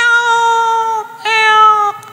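A cat gives two drawn-out meows, loud and close, one after another with a short pause between, alone without talking.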